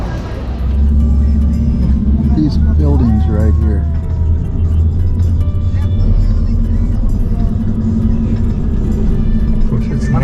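Car traffic fills a downtown Lima street at night with a constant close rumble of engines and passing vehicles, and someone talks over the noise.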